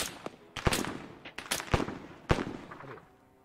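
Gunfire in the Arma 3 military shooter, several loud, sharp shots and short bursts spread irregularly over a few seconds, close and punchy with reverberant tails.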